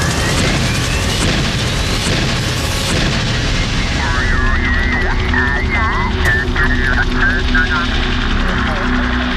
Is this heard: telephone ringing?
no